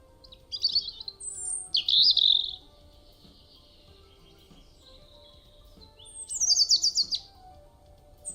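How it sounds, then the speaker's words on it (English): Bright bird chirps and short trilling calls from an otome video game come in two bursts separated by a quiet stretch, over a faint low background hum. "Should be hearing some birds chirping."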